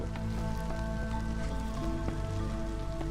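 Steady drizzle patters in the city-builder game Against The Storm, a dense, even hiss of light rain with faint tonal game music underneath, no talking.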